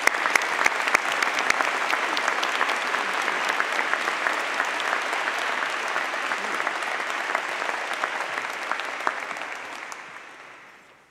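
Long, loud round of applause from a large audience honouring graduates of a faculty of medicine at a university commemoration ceremony, steady throughout and fading away at the end.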